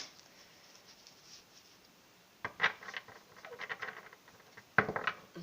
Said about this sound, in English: I'm just going to shuffle the tarot.